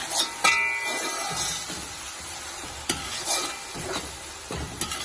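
Garlic, ginger and green chili paste fries in hot oil as a masala for mutton paye, giving a steady close sizzle broken by a few sharper stirring scrapes and clacks.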